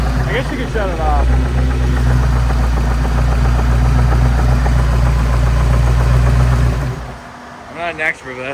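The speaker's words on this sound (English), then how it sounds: "it's knocking. I guess you could shut it off." A knocking Ford Foxbody engine idles with a steady, heavy near rumble for about seven seconds, then cuts off abruptly, leaving only voices talking.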